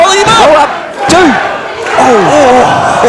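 A wrestling arena crowd roars and cheers in surging waves during a title match, loud and close, with a commentator talking over it.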